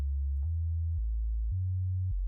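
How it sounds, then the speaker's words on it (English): A Reaktor synthesizer oscillator outputs a pure sine wave tone, a steady low hum that steps between pitches several times with faint clicks at each change. "It's a pure sine wave"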